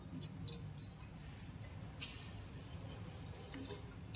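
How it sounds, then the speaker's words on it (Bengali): Water runs and splashes as bottles are washed with warm and cold water, a steady close rush with a few clinks and drips, no voices. "একবারে এই সব বোতলগুলো একটু গরম জল দিয়ে ঠান্ডা জল করে ধুয়ে নেব"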